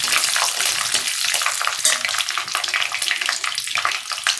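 Cumin seeds and curry leaves frying in hot oil for a tamarind curry, a dense, steady crackling sizzle that fills the clip from start to finish with no talking.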